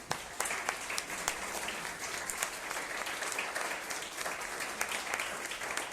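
Church congregation applauding steadily and loudly after a sermon, a dense wash of many hands clapping that continues evenly throughout with no voices over it.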